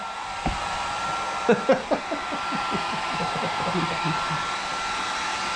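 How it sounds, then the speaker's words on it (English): A steady, even whoosh of a hair dryer running continuously in a car repair shop, with a few brief knocks and clicks near the start. "Our famous hairdryer."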